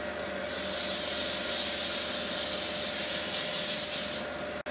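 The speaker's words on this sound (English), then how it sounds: "sanding the bottom of the handle and getting it ready to take off the lathe" Steady abrasive hissing of sandpaper pressed against a wooden handle spinning on a lathe, continuous for several seconds with a faint motor hum underneath.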